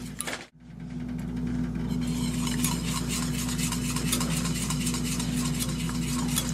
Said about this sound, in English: I'll add in about 1/2 cup of milk, and I'm going to stir that up until it's all smooth.